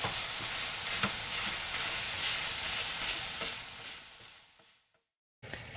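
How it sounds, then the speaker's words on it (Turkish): Minced meat sizzles steadily while being stirred and pressed in a pan, browning for a pide manti dish; continuous loud frying with occasional scraping stirs, fading out near the end before a brief return. "İyice kahverengi bir renk alana kadar bunu kavurmaya devam ediyorum."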